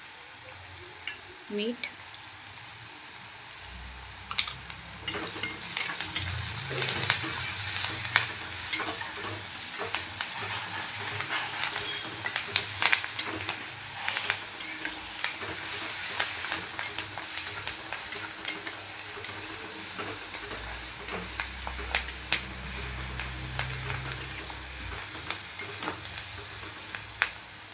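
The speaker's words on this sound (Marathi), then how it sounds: "छान असं परतून आपल्याला घ्यायचं आहे" Semolina upma sautés with curry leaves in a pan, a continuous sizzle with frequent spoon scrapes and clicks against the pan, while someone briefly speaks.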